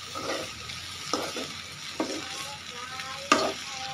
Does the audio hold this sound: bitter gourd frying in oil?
yes